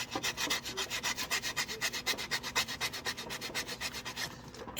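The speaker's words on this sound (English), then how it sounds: "We're going to use P150 grade. We're going to get this sanded down really good." Steady back-and-forth rasp of P150 grade sandpaper worked by hand over a small restored St. Yosef statue, rhythmic strokes close and clear, alone without voices, stopping just before the end.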